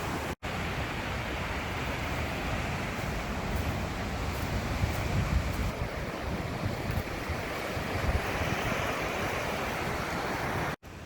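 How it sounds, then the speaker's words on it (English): Rushing rapids on the Upper Red River in Canada roar steadily and loudly throughout, a dense continuous wash of churning water with no voices. "This is the whole stretch of the rapid that we are portaging"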